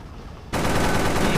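Sudden burst of heavy automatic gunfire in the tank video game Clash of Panzer, a dense, continuous rattle that stays loud and close after quiet background.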